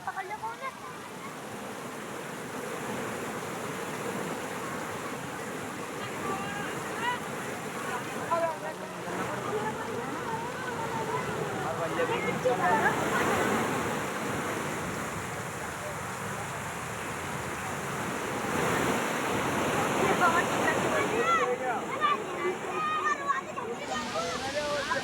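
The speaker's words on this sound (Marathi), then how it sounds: "2 तास झालेल्या मुसळधार पावसानं बाणगंगा नदीला मोठा पूर आला" Floodwater rushes down the Banganga river in Buldhana district after two hours of cloudburst-like heavy rain, making a loud, continuous broadband roar that swells and eases a little but never stops.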